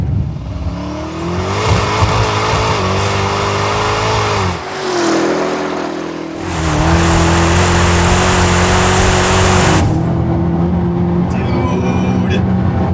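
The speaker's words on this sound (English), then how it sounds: "We just left the gnarliest rolling burnout." A Hennessey twin-turbo Dodge Demon 1700 doing a long rolling burnout, its engine roaring at sustained high revs with rising pitch and tire noise. The roar is loud and continuous, dipping briefly midway before surging again.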